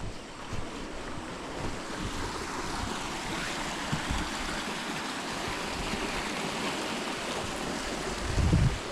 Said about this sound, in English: Just that few minutes we are crossing the river.